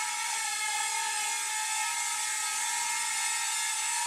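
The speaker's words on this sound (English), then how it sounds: "Pivoting the drone, I should say." A SIMIX X300C toy drone's small motors whir steadily as it pivots in place, a high, close, continuous buzz with no talking.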